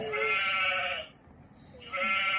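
Two sheep bleats from a children's animal sound book, each a loud, wavering electronic baa with a short quiet gap between them, no talking over them.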